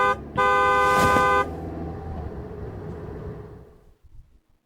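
A car horn blares for about a second, loud and close, as the vehicle passes by, its engine noise fading away over the following few seconds into quiet.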